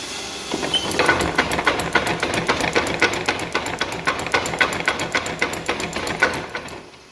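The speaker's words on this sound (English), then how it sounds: "now it's alive, and let's see if we can make some noise." A Vulcanus blacksmith's power hammer runs with a loud, fast, steady mechanical pounding that keeps an even rhythm for several seconds, then winds down at the end.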